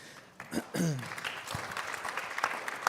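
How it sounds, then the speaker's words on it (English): Audience applause at a sustainability panel event, a brief burst of clapping mixed with a voice near the start, then settling into a steady moderate patter. "Wow, round of applause, I think."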